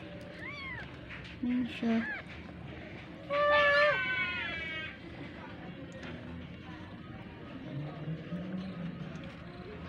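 Newborn kittens, a litter of about five just born to a house cat after a hard labor, give several thin high meows early on, with a longer cluster of cries in the middle, while a person speaks nearby.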